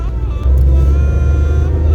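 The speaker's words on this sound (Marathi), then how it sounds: "कार चालवते" A car is driven along, with a steady, close low engine and road rumble that holds evenly throughout and no talking over it.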